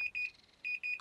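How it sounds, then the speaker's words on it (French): An electronic oven timer beeps in quick repeated pairs of high tones, fairly close and clear, with a short clatter at the end. "c'est la sonnerie du four."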